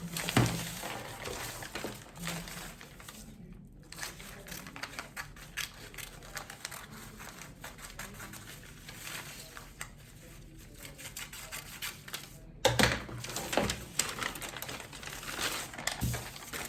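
Scissors cutting a paper pattern for a blouse, with quiet crinkling of the paper and scattered sharp snips and rustles close by, soft overall and free of speech.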